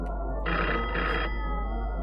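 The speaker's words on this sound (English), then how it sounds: "Answer the phone." A telephone rings in a home during a comedy sketch about a stolen takeaway order; one loud electronic ring burst sounds over a steady low hum, followed by a sharp new tone at the end.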